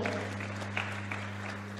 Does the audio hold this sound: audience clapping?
yes